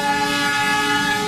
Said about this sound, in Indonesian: Maaf, ada kereta api karena rumahku itu dekat sama kereta api.